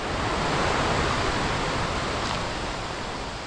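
A primeval, jungle-like mountain valley stream at Deokdong Valley in Jecheon rushes in a dense, continuous roar of flowing water, steady and fairly close throughout.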